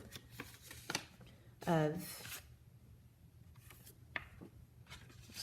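A small paper envelope crinkles and rustles in hand in a few brief bursts, close up, with a voice talking quietly around the handling.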